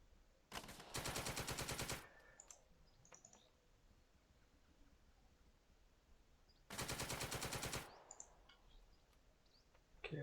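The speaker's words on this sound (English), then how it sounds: "a machine gun is fired" Two loud bursts of rapid machine-gun fire in the video game Second Front, a village battle, each lasting about a second with quieter scattered shots and clicks between them.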